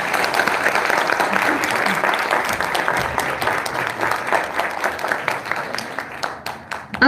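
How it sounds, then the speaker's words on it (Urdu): Sustained audience applause fills a university hall at a religious speech event, a dense steady wash of many hands clapping at once, loud and continuous throughout, fading slightly near the end. "ایک دفعہ اور تالیاں ان کے لیے."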